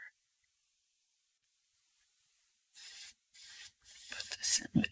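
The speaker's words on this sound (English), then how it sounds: "that sound you may have heard is her spraying her palette with fine misted water to keep the paints moist" Fine water mist is sprayed onto an acrylic paint palette in short hissy bursts, a few quick sprays in a row following a quiet pause, close and soft.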